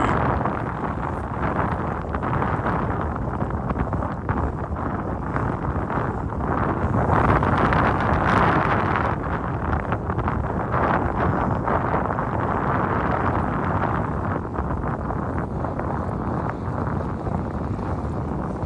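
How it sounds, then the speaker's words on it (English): Strong wind gusting around a fishing spot, roaring and buffeting the microphone in a loud, steady rush that swells midway, with no talk. "Man, that wind's picking up."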